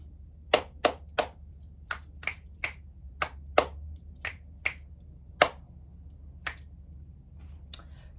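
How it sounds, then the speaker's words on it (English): A dozen or so sharp, crisp finger snaps and claps ring out one by one in an uneven rhythm, close and dry against a quiet low hum, with no talking. "Those I call my clap snaps."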